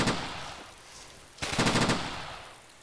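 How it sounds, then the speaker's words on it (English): An MG42 machine gun in Iron Front: Liberation 1944 lets off a short burst, then after a pause a louder, fast-rattling volley that echoes away, loud and close. "he was shooting at me with an MG42, I believe, too."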